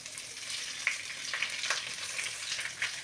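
Onions with ginger-garlic paste sauté in a pan with a soft, steady sizzle and a few light stirring clicks, quiet and close, with no talk.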